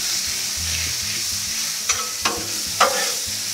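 Small pieces of sirloin steak sizzle steadily on a hot Blackstone griddle, with a constant frying hiss and a few sharp scrapes or taps of a spatula near the end.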